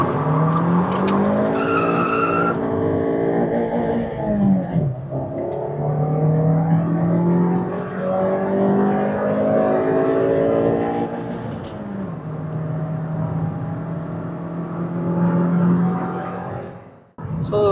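Tires screech as a fourth-generation Honda City launches hard with wheelspin, the engine revving and climbing through gears with a long sustained squeal before it cuts off.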